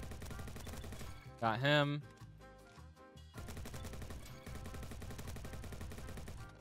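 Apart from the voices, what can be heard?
gunfire in a video game (Bad Business)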